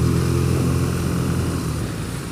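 A BMW R nineT motorcycle engine drones steadily while riding at night, a loud, low continuous rumble with road and wind noise.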